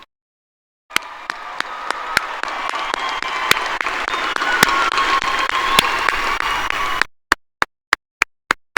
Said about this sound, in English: please stand up so that we can thank you with a loud round of applause